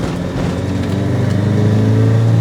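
A Toyota Hiace camper van, built up for off-road use, accelerates hard at full throttle in second gear while turning, its engine droning loud and steady and rising slightly in pitch. Nobody speaks.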